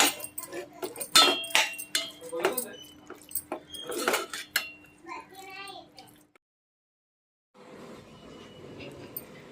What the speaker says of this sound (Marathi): आता ह्याच्यात आपण कोलंबी घालूया. सगळी कोलंबी परत त्याच्यात फ्राय करून घ्यायची.